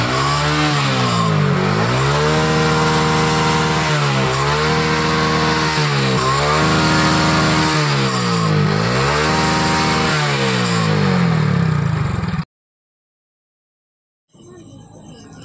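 A motorcycle engine that is burning oil and overheating is revved repeatedly during repair work, its loud, close, rising-and-falling revs cycling for about twelve seconds before it cuts off abruptly into silence.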